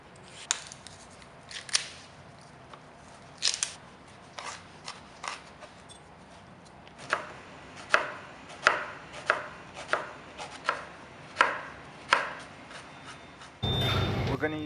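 A knife chops garlic, onion, celery and carrot into a fine brunoise for mirepoix on a cutting board, with sharp close taps first in scattered bursts and then in a steady rhythmic run, ending in a brief rustle.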